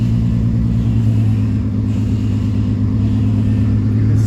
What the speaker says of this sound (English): I can still hear the power steering pump.